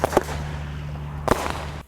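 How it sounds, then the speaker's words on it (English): Consumer fireworks being set off outdoors around the 4th of July, two sharp loud bangs a little over a second apart, each followed by a brief crackling decay, with no talk. "So now that we've detonated our fireworks"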